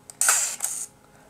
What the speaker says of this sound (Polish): naciągam, słychać było naciągnięcie i robię zdjęcie